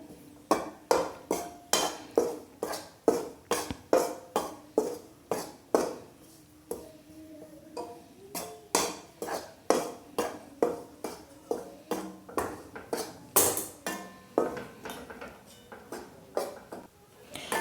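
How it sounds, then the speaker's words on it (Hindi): Wheat flour roasting in a pan for til-gud laddu is stirred continuously, giving a quiet, rhythmic series of scraping clinks from a spoon against the pan, roughly two strokes per second. "इसको लगातार चलाते हुए भूनेंगे"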